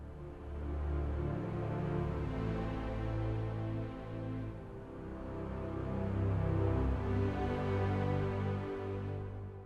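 Chord progression resembling a piece from Inception: slow, swelling sustained chords with a deep low register, moderately loud and building gradually, with no voices.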